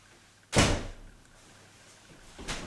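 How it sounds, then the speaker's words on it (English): An old door in a 19th-century manor house rattles twice in a quiet room, a sharp loud clatter followed a couple of seconds later by a softer second rattle. "That door rattled then, didn't it? Twice."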